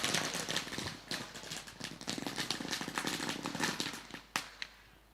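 Fireworks and firecrackers bursting at the opening of a cricket final match, a dense run of sharp cracks and pops that comes in waves, loud and close, with a couple of stronger bangs near the end.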